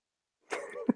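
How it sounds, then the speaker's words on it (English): A single person clears their throat once, close and fairly loud, a rough guttural burst ending in a sharp low catch, after a moment of silence. "I just have to clear my throat."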